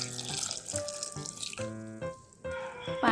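Water is poured from a glass into a pot of dalma, an onion-free and garlic-free lentil dish, with splashy trickling and a few clinks of the vessel close by.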